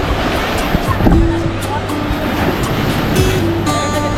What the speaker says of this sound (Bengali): এখন দুপুরে কিন্তু জোয়ারের সময়, সেই জন্য ঢেউটা কিন্তু ভালোই আছে।